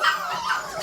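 A litter of puppies yipping and whining, with high, overlapping little barks and whimpers packed closely together in a brief, loud burst.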